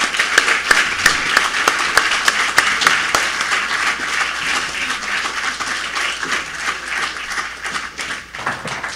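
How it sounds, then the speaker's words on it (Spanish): Audience applause at a keynote lecture honoring Dr. Walter Alba Alba, a dense wash of many hands clapping with sharp individual claps standing out, steady and loud for most of the stretch before thinning near the end. "con un aplauso para usted"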